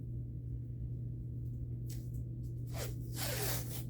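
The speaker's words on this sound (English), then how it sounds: "I'm just going to tape 2 of these together" Tape being pulled from the roll to join two pieces of cardboard, a few rasping strips that grow louder and longer toward the end over a steady low hum, with no talking.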